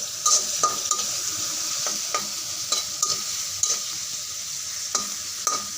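Onion frying in oil with salt for a flat bean stir-fry, a constant loud sizzle punctuated by regular clinks and scrapes of a spatula against the pan, with no voices.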